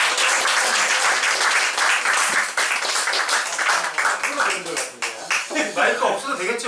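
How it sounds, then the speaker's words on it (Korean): An audience claps to welcome a lecturer before a talk on Korea-US-Japan military alliances. The dense applause is loud and sustained for about seven seconds, turning slightly patchier toward the end. "큰 박수로 모시겠습니다"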